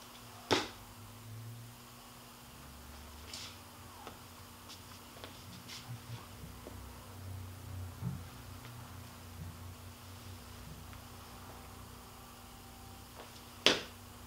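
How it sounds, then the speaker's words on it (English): Two sharp stamps of the left foot land during Chen-style Tai Chi serial fist strikes, one near the start and one near the end, with faint scuffs and movement between them over a low steady room hum. "Now, you can hear the left foot stamping when it's punching."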